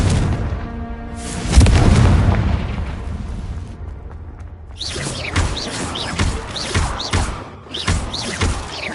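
In the Hogwarts Legacy video game, a Confringo explosion spell lands with a loud booming blast, followed by a rumbling fade and then a run of smaller crackling bursts and pops.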